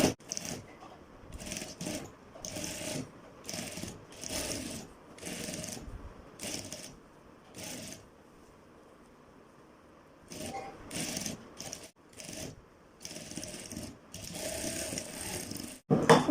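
A sewing machine stitches a thin cord onto the reverse side of a kurta, running in quick repeated bursts with short pauses, then a longer quiet stretch before the stitching resumes.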